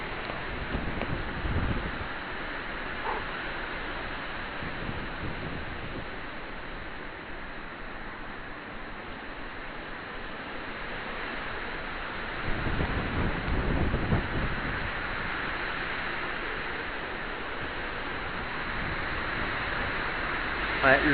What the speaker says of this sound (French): le vent est fort